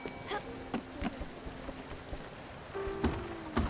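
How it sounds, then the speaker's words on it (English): Light drizzling rain patters softly in Spiritfarer, a faint steady hiss sprinkled with small drop ticks and a few brief chirping tones. "Kind of drizzly out here."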